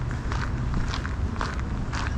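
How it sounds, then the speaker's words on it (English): Footsteps crunch steadily on a gravel path in a lakeside park loop, an even walking rhythm of gritty crunches, close and continuous with faint outdoor background. "I'm walking on gravel right now, as you can probably hear my footsteps"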